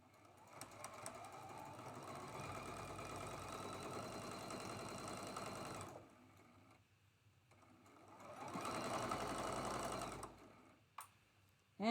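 A sewing machine stitches quilt blocks together in two sustained runs of rapid mechanical whirring, pausing briefly between them, close up and without any voices.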